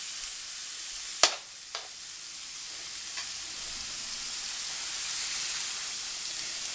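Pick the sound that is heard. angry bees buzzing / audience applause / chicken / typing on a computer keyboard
chicken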